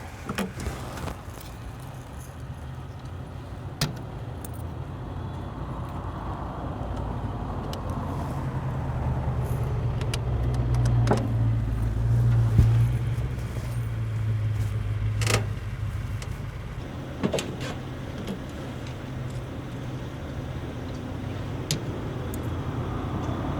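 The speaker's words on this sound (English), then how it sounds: "concentrate on all the ambient sound, the car sounds around Jake and how loud they are on certain microphone" Steady ambient car traffic during a film shoot, recorded on a lavalier mic: a continuous low road rumble swells in the middle as a vehicle passes nearby, with scattered faint clicks and jingles over the hum.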